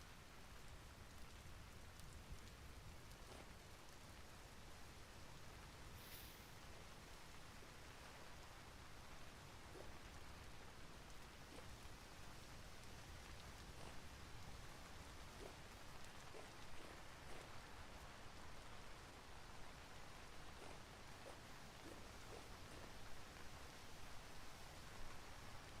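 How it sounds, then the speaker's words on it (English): Soft, steady rainfall in the block-building survival game Vintage Story, a constant hiss of drops with a faint patter and no voices, quiet and even throughout. "Oh, it's raining."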